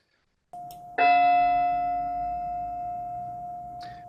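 A single loud bell strike, sounded as part of a ten bell salute, rings out clearly after a soft lower tone and then decays slowly with a long, shimmering sustain.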